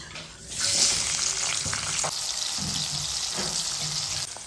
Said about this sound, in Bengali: একই তেলে এবার আলুগুলো ভেজে নেব।